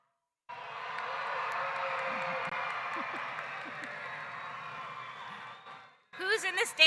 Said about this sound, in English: How about a husband,